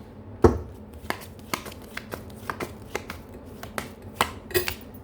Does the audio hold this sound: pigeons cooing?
no